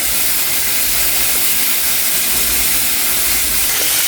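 A pork chop fries in butter, making a loud, steady, broad hiss that stays constant throughout without breaks.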